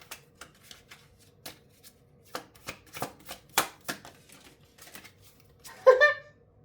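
A card drawn from a deck, a run of soft flicks and taps building to a brief riffling flutter near the end, quiet and close.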